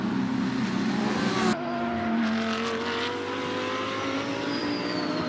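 The KCMG No. 19 Audi GT race car sits in the Suzuka pit lane during a Blancpain GT Series Asia 2017 round, its engine droning loud and steady, with a sudden shift in tone partway through.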